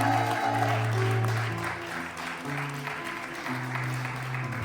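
A church congregation applauds during a special worship service, a steady wash of clapping at moderate volume over sustained musical chords, with no voices rising above it.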